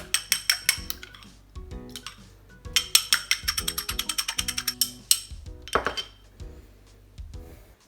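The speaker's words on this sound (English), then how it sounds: "And I'm gonna whisk this." Egg mixed with sugar and soy sauce is whisked briskly in a bowl, bursts of quick rhythmic clinking and tapping in close, separate runs with short pauses between.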